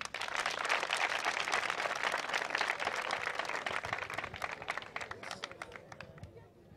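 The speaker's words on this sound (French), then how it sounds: "Applaudissez pour lui." Applause from a crowd at a public gathering for a speaker, a former ambassador, in Mounana. It is a dense, moderately distant patter of clapping that holds steady and then thins out toward the end.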